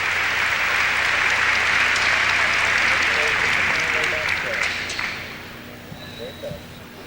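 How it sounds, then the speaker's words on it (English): A dense, loud wash of arena applause greets a figure skater at a 1995 legends skating show. It holds steady, then thins and fades toward the end as scattered claps remain and a voice begins. "A nice round of applause for Elaine Zayak, two-time world professional silver medalist."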